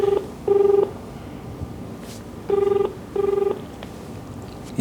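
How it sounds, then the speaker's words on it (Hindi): A telephone ringback tone pulses in paired bursts while a call is dialed and waits to connect, clear and steady with short silences between rings. "इनका नंबर डायल किया है मैंने, एंड होपिंग कि ये डायरेक्टली फ़ोन उठाएंगे।"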